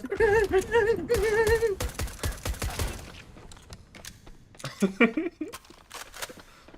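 Rapid gunfire from a multiplayer shooter video game, bursts of sharp shots crowding the first three seconds under excited voices, then scattered quieter shots and game sounds while people keep talking.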